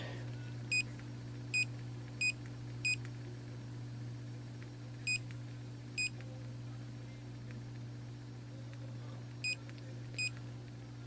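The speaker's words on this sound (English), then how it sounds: "you'll hear the beep like you would in a store" Eight short, high electronic beeps from an Eyoyo wearable Bluetooth and USB barcode scanner, spaced irregularly over a low steady hum, each a single quick chirp as it reads a code.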